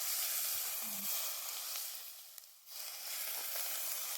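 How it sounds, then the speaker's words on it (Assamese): Hot oil seasoned with asafoetida and cumin seeds poured over green chillies for pickle, a steady close hiss and sizzle that briefly dips near the middle before surging back, with no voices. "তেলখিনি গৰম হ'লত কেইটামান জনি আৰু আধা চামুচ হিং দি গৰম তেলখিনি জলকীয়াখিনিৰ ওপৰত ঢালি দিলোঁ"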